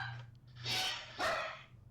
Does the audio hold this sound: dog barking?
yes